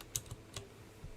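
Typing on a computer keyboard, a few faint, sparse key clicks spaced irregularly over a second, quiet and close.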